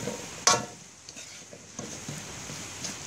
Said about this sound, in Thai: เอาปลาดุกไปผัดกันได้ครับผัดเครื่องให้หอมนะครับ